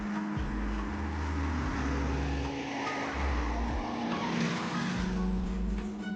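Cars drive past on a road in Cavite, mostly private vehicles, their engines and tyres rising and fading in several loud, close passes over steady traffic rumble, with no talking.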